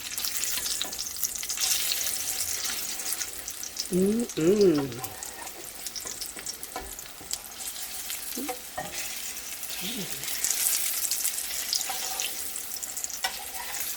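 Potato cakes fry in very hot grease in a pan, giving a steady close sizzle and crackle with a few brief clanks as they are flipped, and a voice speaks briefly over it.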